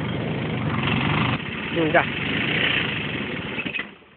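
A scooter engine starts and runs at a rough idle nearby, a steady low drone with a brief rising rev around the middle, while someone speaks a short word over it.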